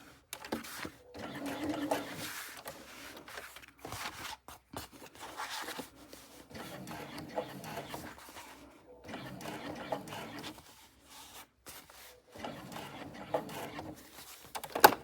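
A sewing machine stitches a rounded appliqué piece onto a bag in short, quiet bursts of rapid needle chatter, with brief pauses between them.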